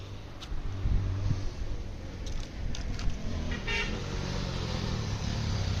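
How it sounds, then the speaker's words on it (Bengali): Motorbike climbing a mountain road toward Darjeeling, its engine drone rising faintly from a distance beneath steady traffic noise, with a couple of brief horn toots. "বাইক উঠছে, আমরা ওই রাস্তা দিয়ে দার্জিলিং দিকে যাবো।"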